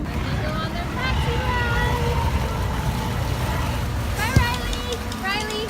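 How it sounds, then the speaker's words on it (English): Water taxi cruising the Grand Canal in Venice, a steady engine hum and water wash heard from aboard, with voices talking over it and a brief bump near the end. "We are on a boat taxi right now because it's the only way to get around here."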